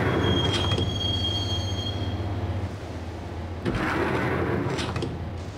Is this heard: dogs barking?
no